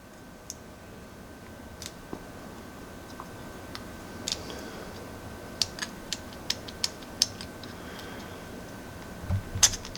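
Small plastic clicks and ticks sound as the tiny bolt on a 1/6 scale action figure's toy gun is worked back and forth, sharp and close but faint, spaced irregularly over quiet background hiss without talk.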